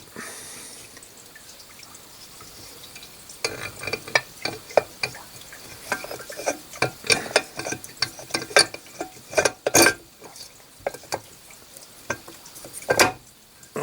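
A 1954 Panhard Junior gear assembly is fitted into its gearbox casing, making a close series of irregular metallic clinks, taps and ratcheting clicks over several seconds, with no talking.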